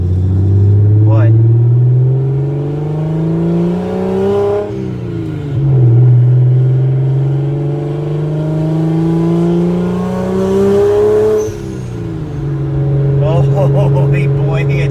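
A BMW 335xi with an N54 engine converted to a big single turbo running 13 pounds of boost drones loudly and steadily from inside the cabin while driving, its pitch climbing through two long pulls with a brief dip at each shift, and a voice speaks over it.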